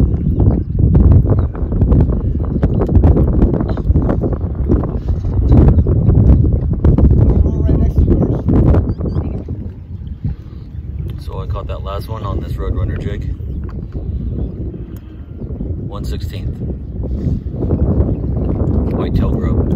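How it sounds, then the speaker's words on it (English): Strong wind buffets the microphone beside Lake Hodges while fishing for crappie, a loud continuous low rumble with gusts that ease slightly midway, then build again. "As you can see, the wind really picked up."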